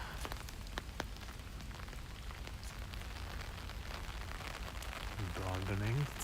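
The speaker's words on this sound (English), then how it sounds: "Oh, it's starting to rain." Steady rain patters on surfaces near a garden center in Japan, a dense wash of drops close by, with a low rumble rising near the end.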